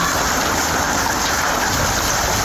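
A loud, dense, unbroken roar of hailstones pelting a car nearby, steady throughout with no pauses or voices.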